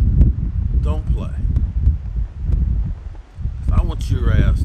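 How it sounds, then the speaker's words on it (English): Wind blows steadily, buffeting the microphone with a low rumble, while a person speaks briefly over it. "Now it's windy out here."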